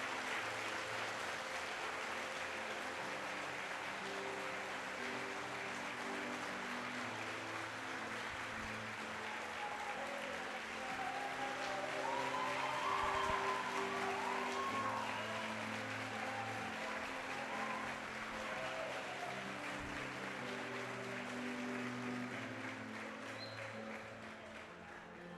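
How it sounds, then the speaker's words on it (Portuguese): A church congregation applauds steadily for about twenty-five seconds, a dense wash of clapping with music sustained underneath, swelling slightly midway before easing off at the end. "dá o maior aplauso que você já deu a Jesus da sua vida"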